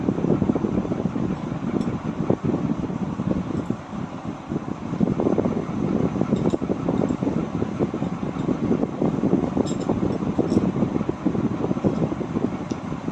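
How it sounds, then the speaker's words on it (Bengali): An electric fan runs close to the microphone, a steady loud whooshing hum with a gusty, buffeting air rush that never lets up. "শুরু হয়ে গেছে ফ্যানের হাওয়া খাওয়া"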